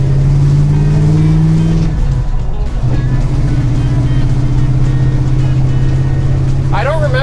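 A 1969 Dodge Charger RT "General Lee" with a pro street build rumbles loudly at close range, its deep engine note shifting pitch partway through, with a brief horn-like tone near the end.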